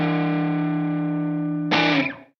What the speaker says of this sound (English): It's a guitar that makes sounds. Listen to that.